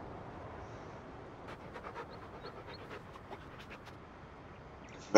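A dog panting in the video game Farming Simulator 19: quick, rhythmic breaths, soft and steady, over low farm ambience.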